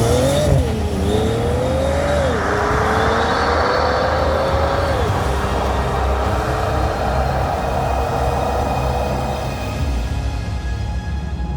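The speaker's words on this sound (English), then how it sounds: "Launch control, yes, in a Bentley." A Bentley with a W12 engine and automatic gearbox launches hard under launch control, a loud, close engine note climbing through gear shifts, then a sustained roar as it pulls away.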